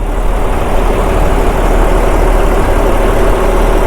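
A fishing boat's engine runs at sea during prawn fishing, a loud, close, unbroken low drone with steady vibration and no variation in pace throughout.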